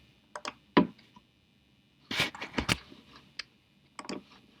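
Scattered keystrokes tap on a computer keyboard during CAD work, a few crisp clicks in small bursts separated by quiet pauses, ending with an Enter press.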